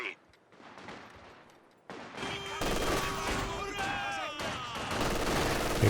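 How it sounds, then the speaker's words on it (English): Battle in the video game Company of Heroes 2, with an Ostheer mortar firing amid a dense mix of gunfire and explosions, loud and continuous under a commentator's voice. "That is an Ostheer mortar for VonManteuffel."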